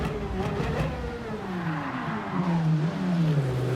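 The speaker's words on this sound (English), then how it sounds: "there was still wheel spin in second and third" A Gran Turismo 7 F3500 racing car's engine revs up and down as the wheels spin in second and third gear, its pitch climbing and dropping in close, continuous, loud sweeps.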